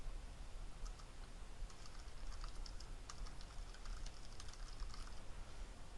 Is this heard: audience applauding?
no